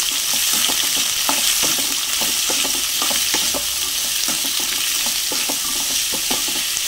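Chopped onions sizzle and fry in a pan for a beef dish, with a steady bed of frying hiss broken by repeated scraping stir strokes, loud and close with no voices.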